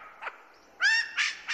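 A lyrebird mimicking a kookaburra call in a tropical rainforest: a faint soft note, then two loud, close, harmonic laughing bursts of rising and falling calls, alone.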